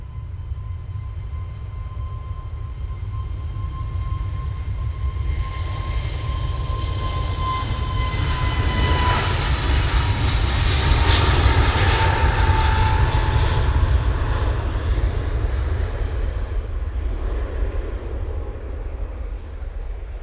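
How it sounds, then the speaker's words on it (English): EasyJet Airbus A320neo jet taking off on its roll, a steady broad engine roar with a whining tone that swells toward the middle and stays loud, heard at a distance without talk. "EasyJet, A320neo, now on the roll."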